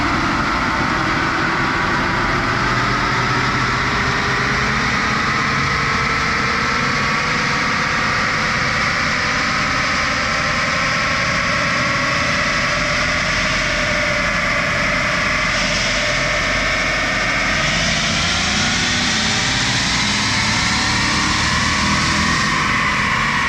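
A 2020 Colorado V8 runs with the muffler cut off, giving a continuous loud rumbling drone with a breathy, whooshing character and slight rises in pitch, steady throughout with no voices.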